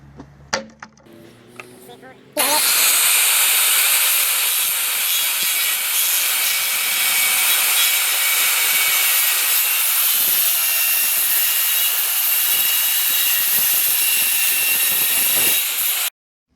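A SmartSide trim board is cut with a power saw: a few soft handling knocks, then a loud sustained high whine of the blade through the board for about fourteen seconds, stopping abruptly.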